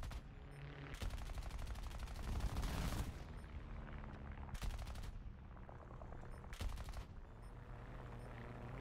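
Machine-gun fire from a PB4Y-2 Privateer bomber in a flight video game, three sharp rapid bursts at intervals over a droning engine hum, the first burst the longest and loudest.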